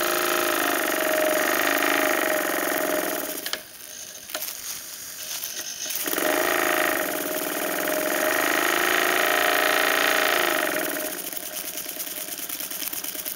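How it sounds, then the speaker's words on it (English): A small single-cylinder live steam engine chugs and hisses steadily, easing off briefly before picking back up to a fast, even run. "The engine turns a nice slow RPM as well as a nice top end to it."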